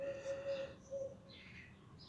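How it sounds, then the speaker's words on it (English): Birds chirping outside a seventh-floor window in the morning, a few faint, distant tweets and a thin sustained whistle-like call at the start, with soft background air noise and no talk. "I'm sure this is gonna pick up the wind and birds and whatnot sound"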